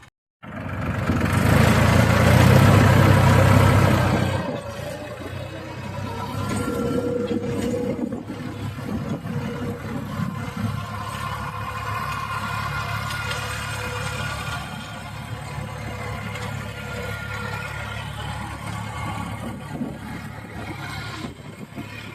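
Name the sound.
New Holland tractor engine running with Shaktiman rotavator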